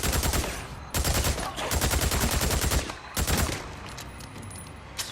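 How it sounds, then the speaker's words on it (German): Sustained automatic gunfire from a full magazine emptied in the zombie survival game Days Gone, loud rapid bursts in several long volleys separated by brief gaps, then a quieter tail. "Volle Magazin reingeballert."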